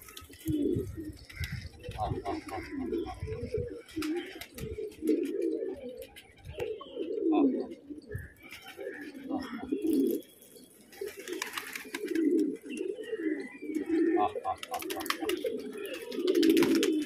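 Pigeons cooing close by in a loft setting, repeated low throaty coos in a steady rolling rhythm with a few faint chirps, while someone talks intermittently over them.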